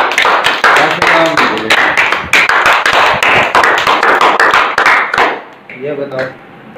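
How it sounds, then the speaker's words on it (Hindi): Loud group applause from a brain activation class rolls on for about five seconds in dense, irregular claps, then stops abruptly, after which a voice speaks briefly. "ताली बजाओ भाई,"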